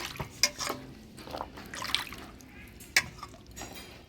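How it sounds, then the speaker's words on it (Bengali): Potatoes being rinsed by hand in water, with quiet intermittent splashes and drips, a few sharper plops standing out against a soft watery background. "আলু একটু পরিষ্কার করে ধুয়ে নিচ্ছি"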